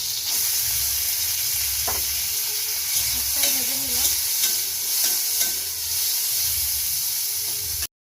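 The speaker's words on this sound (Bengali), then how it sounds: "কিশমিশটা একটু ভেজে নেবো" Raisins frying in ghee in a wok: a loud, continuous close sizzle with occasional stirring scrapes, running steadily until it cuts off abruptly at the end.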